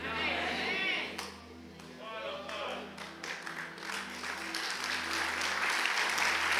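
Congregation clapping in a church service, a moderate, uneven patter of hands over a low steady hum, with a voice speaking at the start and the clapping building toward the end.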